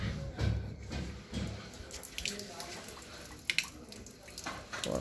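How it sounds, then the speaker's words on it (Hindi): A tap during plumbing work in Hyderabad runs with weak water flow, producing a steady splashing hiss with occasional clunks and low background rumble. "अभी ये जो पॉइंट है इसमें पानी कम आ रहा सर।"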